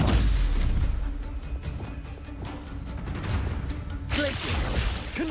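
Spell-casting in Hogwarts Legacy combat: loud booming blasts and whooshes pile up across the moment, with a brighter crackling burst near the end and dense rumble throughout.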